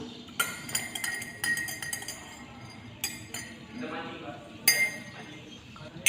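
An iron nail stirred in water inside a glass, giving several distinct clinks and taps against the glass wall in short irregular bursts, with a voice talking softly in the background.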